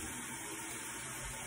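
Warm water runs in a steady, even gush, rinsing a rosemary face product off the skin, with no talking over it.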